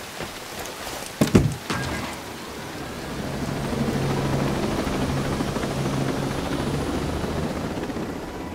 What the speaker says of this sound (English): Gonna grab this heli.